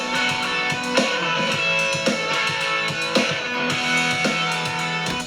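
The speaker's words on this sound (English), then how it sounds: "I think that really complements that ride on the ride cymbal" A rock track with guitars, a shimmering ride cymbal and a bass drum thumping about once a second, steady and full.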